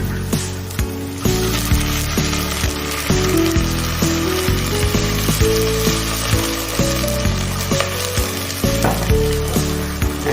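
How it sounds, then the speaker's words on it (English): Shallots sear in a hot pan with loud, close crackling sizzle, broken by repeated knocks and scrapes of a utensil stirring against the pan. "Sear that up a little bit."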